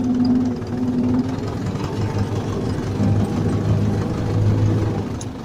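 An Ursus C-360 tractor engine running as the tractor drives slowly, a loud, steady low diesel rumble with a knocking pulse that holds throughout.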